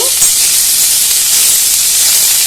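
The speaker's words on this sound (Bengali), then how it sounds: "তো ভালো করে পটলগুলো একবার ভেজে নিচ্ছি" Pointed gourd (potol) pieces frying in oil in a pan, giving a steady, loud broadband hiss and sizzle that holds without a break, close by, with no voices.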